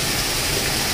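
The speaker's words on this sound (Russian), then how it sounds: "Сверху льется дождик." Rain pours onto outdoor hot spring pools and jacuzzis at a thermal spa near Arenal Volcano, Costa Rica, a dense, continuous, loud hiss of water with no voices.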